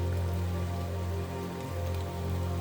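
Steady, dense rain pours down in a flooded forest near a swollen river, a constant loud hiss of drops on foliage and water with no pauses or voices.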